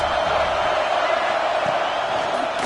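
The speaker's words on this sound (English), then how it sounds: "Listen to this crowd just shaking the girders of this place, trying to help their defense" A football stadium crowd roars for the home defense in a dense, continuous wall of cheering that holds steady throughout.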